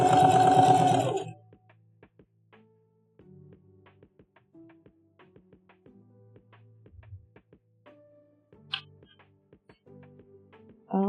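A sewing machine top stitching a blazer at a quarter-inch seam runs loudly for about a second, then falls to scattered light clicks and taps.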